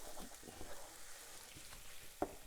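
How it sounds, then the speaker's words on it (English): Tomato paste with garlic and onions fries in a pan, a faint steady sizzle with soft scraping stir strokes and a small clack near the end. "Get that tomato paste in there. Work that around."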